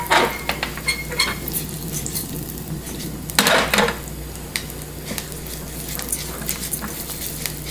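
Rice toasting for pilaf in a hot pan, a loud close sizzle under repeated scraping and stirring strokes of a utensil against the pan, with a brief louder burst partway.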